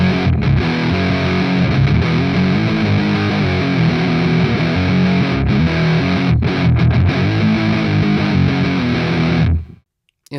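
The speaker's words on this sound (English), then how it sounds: "There's some big grungy heavy tones in here too." A heavy, grungy distorted electric guitar tone from an ADAMP One preamp profile on a Kemper Profiling Amplifier plays loud, thick and continuous riffs, then cuts off abruptly near the end.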